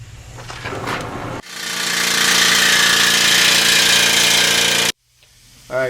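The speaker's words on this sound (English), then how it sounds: "once the heat has had the opportunity to work its way into the middle of the bolt, run it out with an air hammer" An air hammer hammers loudly in a sustained burst lasting several seconds, driving a heated suspension bolt out of a 2006-2009 Range Rover Sport's rear bushing mount, with shorter clatter and workshop noise just before and after.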